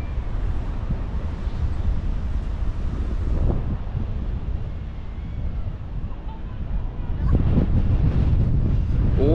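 Singapore Airlines jet taking off near Mai Khao beach in Thailand, heard as a loud, steady roar with strong wind buffeting the microphone throughout, swelling again near the end.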